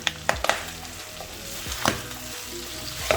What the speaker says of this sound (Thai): พอหมูเริ่มแห้งนะคะ มันก็จะมีการแตกการกระเด็นของ น้ำมันหมูนะคะ